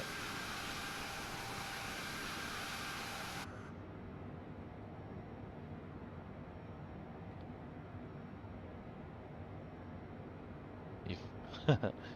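Airbus A220 jet engines in Microsoft Flight Simulator winding down as the plane slows, a steady broadband roar that drops in level after a few seconds and carries on as a softer rumble, with a brief clatter near the end.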